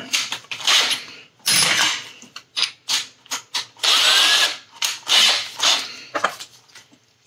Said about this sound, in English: I got a spot to drill a hole.